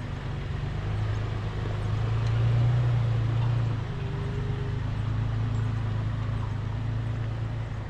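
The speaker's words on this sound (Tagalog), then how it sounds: "Naririnig mo ba yung makina ng sasakyan ko?" A 4x4 off-road vehicle on a trail at Blue Lagoon, idling at low RPM with a steady deep rumble and a brief swell in the middle, close and alone.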